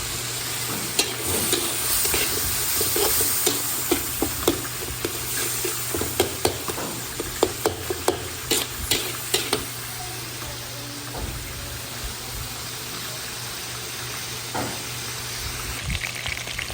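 Bok choy and garlic stir-fried in a pan, with a steady sizzle under repeated scraping and clanking strokes of a utensil that come thick in the first half, then fade to a softer fry.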